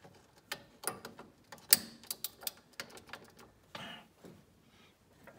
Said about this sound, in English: now he's working on the 3 14 millimeter bolts that hold the hub to the spindle